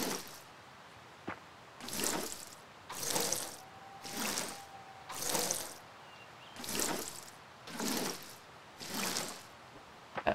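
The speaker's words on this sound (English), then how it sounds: "Oh, water our plants before we go." Eight even bursts of pouring water sound in a steady rhythm while plants get watered in the farming video game Fae Farm, each splash rising and falling over a quiet background with a faint tonal hum.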